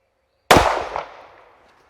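A single sharp gunshot from a Tank Commander .45 pistol at an outdoor shooting range, a loud close crack followed by a short decaying echo, with no voices.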